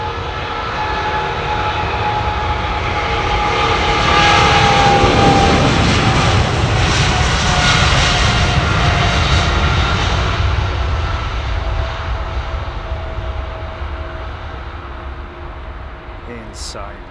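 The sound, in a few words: GE jet engines of airliner at Heathrow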